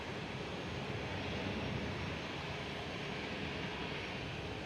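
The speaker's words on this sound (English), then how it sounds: "There goes KLM 737" At Amsterdam Schiphol, a KLM Boeing 737 produces a faint, steady broadband jet roar that stays even from start to finish.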